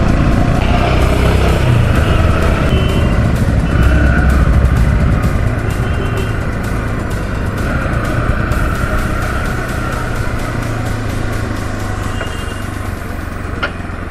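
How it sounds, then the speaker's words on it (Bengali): Many cars and motorcycles pass close by in a steady stream of engine noise at a railway level crossing after the gate lifts, some idling and revving, with no talk. "মনে হচ্ছে রেলগেটটা উঠে যেতে, সেই জন্যেই এত গাড়ি বেরোচ্ছে।"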